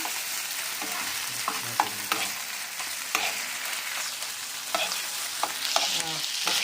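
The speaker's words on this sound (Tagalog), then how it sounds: "Hahaluin lang po na ganito yan. Habang nakalagay sa sizzling plate." Crispy sisig is stirred on a hot sizzling plate, a steady broadband sizzle carrying repeated scraping and clinking strokes of the utensil against the metal, close and moderately loud, with no talking.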